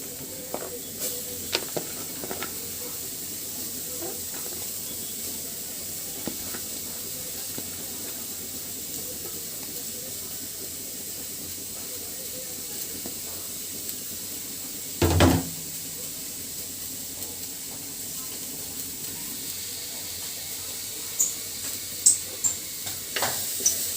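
Chopped onions sizzle as they fry in oil for a homemade beef curry. A steady, soft hiss runs throughout, broken by occasional light clinks and one brief thump partway through.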